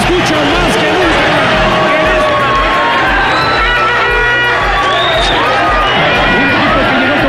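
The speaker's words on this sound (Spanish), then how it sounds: "El grito de Goya se escucha más que nunca." A stadium crowd of Pumas supporters roars and chants the Goya cheer in a loud, continuous, dense mass of voices, with shouts rising above the swell throughout.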